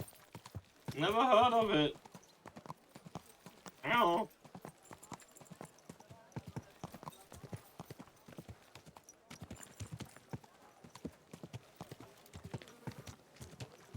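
Steady clip-clop of horse hooves walking at an even pace in the video game Kingdom Come: Deliverance 2, with two short spoken lines from a voice near the start.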